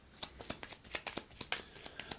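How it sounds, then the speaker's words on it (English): A Gloomhaven monster deck, with a curse card added, is shuffled by hand in a quick, steady run of soft papery riffles and snaps, close and quiet, with no talking. "We got to shuffle this stuff up."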